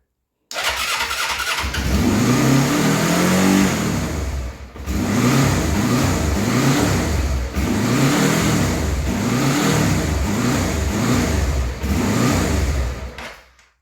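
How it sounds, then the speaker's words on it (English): A Kawasaki GPZ 305 motorcycle engine sputters to life on choke after a crank, then revs repeatedly in rising and falling bursts, loud and close, before cutting out. "Put a bit of choke on, see if it'll fire."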